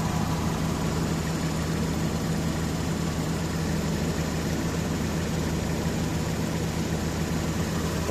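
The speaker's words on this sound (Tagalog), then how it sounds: "Kurog kayo makina mga idol." A Suzuki K6A engine with a misfire and low power idles roughly, a steady low droning rumble with constant vibration running on without a break, close and fairly loud.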